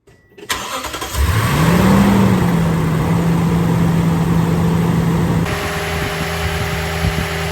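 A Toyota Tundra pickup truck engine cranks and catches after an oil change, then settles into a steady, loud idle with a low hum that shifts slightly toward the end.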